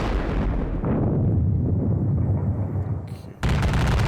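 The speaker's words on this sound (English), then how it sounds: "I could be combining this artillery and the rifle fire together" Rifle and artillery fire from a Civil War strategy game set at the Battle of Perryville: a continuous low, rumbling barrage of booms and crackling volleys, loud and dense, dipping briefly before a fresh sharp burst near the end.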